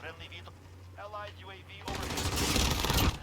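Fennec SMG fire in Call of Duty Modern Warfare: a dense, loud stream of rapid automatic shots starting partway through and running to the end, preceded by a short stretch of quieter voice.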